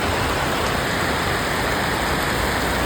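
Heavy rain pours down in a loud, unbroken roar of dense broadband hiss, constant and near throughout, with no voices over it.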